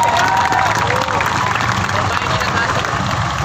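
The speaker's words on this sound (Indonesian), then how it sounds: "Tepuk tangan untuk kawan-kawan kita yang berani memasang." A large outdoor protest crowd in front of a parliament building applauds and cheers, producing loud, dense clapping mixed with shouting voices and a whistle-like cry near the start.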